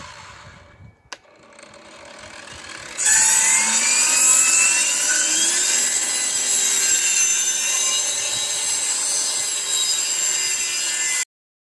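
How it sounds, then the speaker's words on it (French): A saw with a dull blade rips a Douglas pine decking board lengthwise, a loud, steady whining cut that holds for about eight seconds after a short quieter lead-in with a brief knock. "découpe en longueur du premier calpinage"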